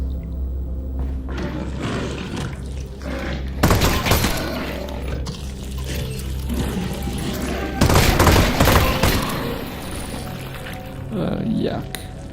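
Loud rapid bursts of gunfire in a VR shooter game, sustained volleys with heavy booms, close and dense, and speech is mixed in.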